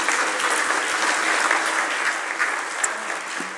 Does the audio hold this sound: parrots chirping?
no